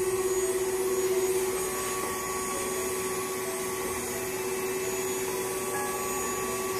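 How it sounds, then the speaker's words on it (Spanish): A vacuum cleaner hums steadily and loudly with a constant motor whine, running alone without pause throughout, during a laser skin blemish-removal treatment. "Ese es el sonido de la aspiradora, no se espanten."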